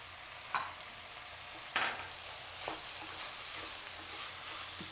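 Cauliflower, corn kernels and capsicum stir-frying in a pan for mixed veg poha, giving a faint steady sizzle with a few soft scraping clicks from stirring.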